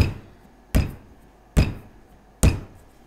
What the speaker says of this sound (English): you're going to tap it on the table, tap it and rotate it just to form a taper at one end